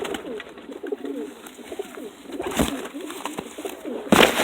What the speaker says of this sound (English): this bird I have right here, if he'll calm down, is a cross between a Dutch Capuchin, I think. Actually, no, this is a purebred